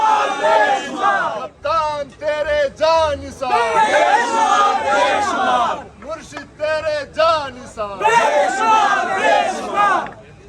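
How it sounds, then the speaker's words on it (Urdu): Crowd of political supporters chanting slogans in rhythmic bursts at a rally for Imran Khan over his threatened arrest, loud and close, with many voices shouting together and brief pauses between chants. "دیکھیں جی, نعرے لگائے جا رہے ہیں"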